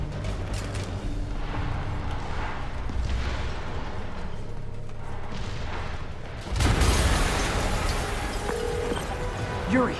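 A loud explosive boom bursts in partway through Marvel's Spider-Man Remastered, followed by a sustained rumbling roar over a steady background of game music and noise.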